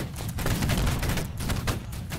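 A ragged musket volley in the Napoleonic-era online battle game Holdfast: Nations At War, many shots firing almost together in a dense, crackling burst that rolls on for about two seconds, loud and close.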